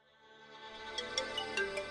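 Mobile phone ringtone, a tonal electronic melody that swells from quiet to louder over two seconds, with light tapping accents, playing alone.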